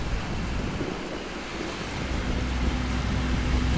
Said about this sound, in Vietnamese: Đây là một anh xà lan đi cát.